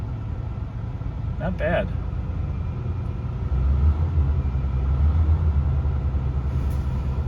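A 1982 AMC Eagle's six-cylinder engine cold-starts partway through and settles into a steady, low rumbling idle, with a short bit of speech before it catches.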